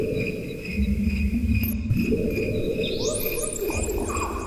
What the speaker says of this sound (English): the crickets just sound like crickets